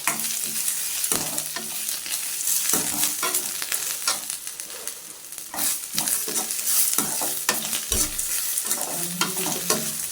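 Ingredients for curry leaf rice sautéing in a hot pan, a steady loud sizzle broken by repeated scraping strokes of a spoon stirring, close up with no talk.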